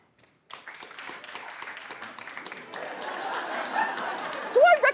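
A television talk show studio audience claps after being asked to vote on a book, scattered hand claps building into steadier applause over a few seconds, with a voice rising briefly near the end.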